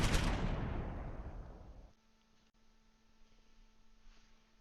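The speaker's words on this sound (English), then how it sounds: "Drop some more mortars over here." A single mortar shell explosion in the WWII strategy game Close Combat IV, a loud boom that rolls off and decays over about two seconds, then a low hum with a faint distant crack.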